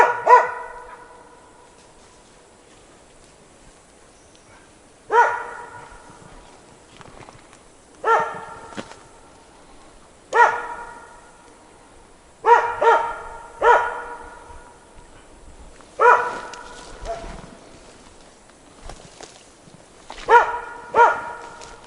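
A hunting dog barks at trees in a forest while hunting grouse, single sharp barks repeating every couple of seconds, at moderate distance, with no talking.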